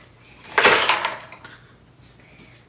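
Ice put into a mango lassi: a single loud clattering burst of cubes tumbling into a container, tailing off with a few light knocks.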